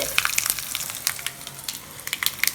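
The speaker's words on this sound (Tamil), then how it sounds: "கருவேப்பிலை கொஞ்சம் போட்டுக்கலாம் லைட்டாக பெருங்காயத்தூள் போட்டுக்கலாம்ப்பா அவ்வளோதான் தாலிப்பு ரெடி ஆயிடுச்சு" Curry leaves and asafoetida sizzling in hot tempering oil for a street-cart style thin chutney, a steady close crackle with scattered sharp pops.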